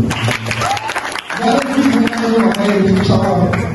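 A small group at a training session claps briefly amid ongoing talk, short bursts of applause mixed with voices, close and moderately loud.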